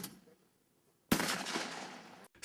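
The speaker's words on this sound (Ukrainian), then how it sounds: "Стріляють не заради здобичі, а суто із спортивного інтересу." A single sharp shotgun blast cracks out at a hunters' sport shooting competition, followed by a rolling outdoor echo that fades over about a second.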